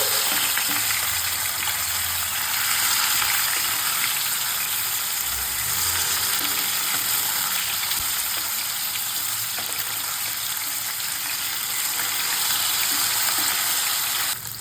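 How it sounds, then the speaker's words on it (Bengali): Katla fish pieces, turned to the second side, fry gently in mustard oil in a pan. A loud, continuous hiss and sizzle holds steady from start to finish, alone and close by. "আমি মাছগুলোকে সর্ষের তেলে ভাজছি"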